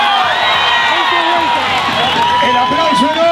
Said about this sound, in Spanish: El aplauso enorme